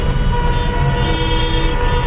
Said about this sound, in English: Everyone's honking because there's traffic.